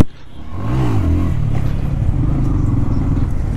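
A motorcycle being revved hard while its rider pulls a wheelie at Dhurwa Dam in the evening, the engine roaring loud and steady with rising and falling pitch throughout.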